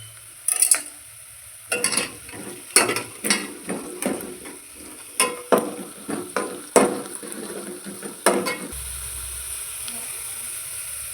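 Whole spices sizzle in a pan with browned onion for mutton kofta, stirred in a series of sharp scraping clatters, then settling into a steady low sizzle.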